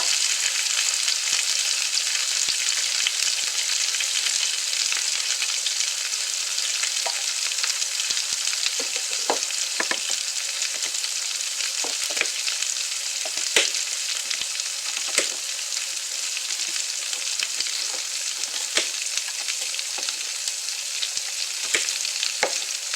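Cut potatoes for hash browns fry in a pan with a steady, bright sizzle, crackling and popping throughout at close range with occasional stirring scrapes and no voices.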